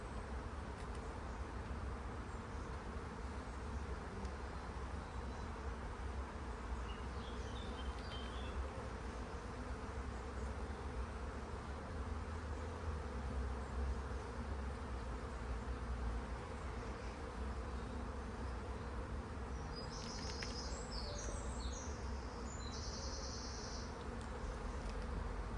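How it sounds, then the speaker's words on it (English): Honey bees buzzing inside an open beehive during a hive inspection, a dense, steady, close drone that runs throughout with no talking. "see how many bees there are already. There's loads and loads and loads in here."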